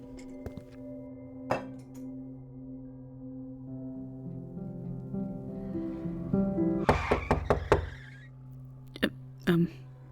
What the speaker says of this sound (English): This knock comes from the main door, and Nicole gets up to walk over